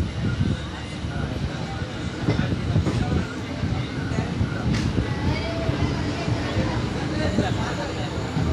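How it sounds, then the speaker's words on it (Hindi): Train at Chudawa railway station on the Purna–Nanded line, a steady broadband rumble of rolling wagons throughout, close and continuous, with faint crowd babble underneath. "अभी हमारी ट्रेन आ गई थी चुड़ाव रेलवे स्टेशन पर"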